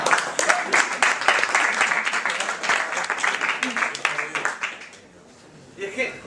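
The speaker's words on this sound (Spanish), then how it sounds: "Un aplauso para Pau Hombre, por favor." Crowd at a Spanish stand-up comedy show gives sustained applause, dense and steady for about five seconds before dying away into near quiet, then a brief stir at the end.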